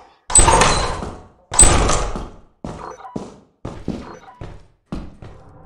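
A locked door opens in the video game Lethal Company: two loud, heavy clunks first, then a quicker series of smaller mechanical thunks and clatters, close and with no talk over them.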